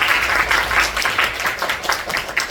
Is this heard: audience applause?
yes